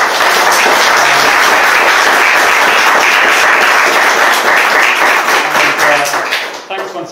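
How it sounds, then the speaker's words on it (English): Audience applause for three panelists at a climate event in the Linen Hall, loud and sustained dense clapping from a crowd that carries on for several seconds before tapering off at the end. "I'd just love to hear a round of applause for all three of our panelists"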